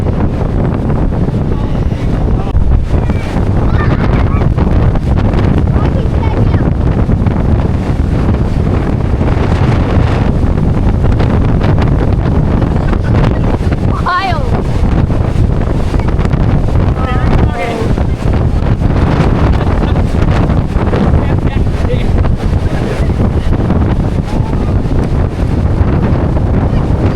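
Powerful cyclone winds from Cyclone Alfred in South East Queensland roar continuously and loudly into the microphone, with heavy buffeting rumble throughout and brief voices heard faintly under the gusts.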